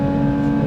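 A Porsche track car with a 4-liter six-cylinder engine revving to 9,000 RPM gives a brief, loud, steady engine note up close, lasting under a second.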